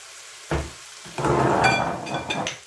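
Lardons sizzling in a Cookeo multicooker, a close, steady frying crackle that starts after a couple of soft knocks and continues with small pops and spatter.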